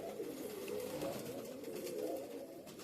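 A large, soft saffron Rampuri Kalanch pigeon coos in a low, steady murmur that continues unbroken and close by, with no voices over it.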